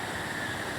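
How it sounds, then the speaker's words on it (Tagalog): River water rushing and babbling near a bridge in San Antonio, a brief steady wash of noise, close and even. "lagaslas ng tubig sa ilog"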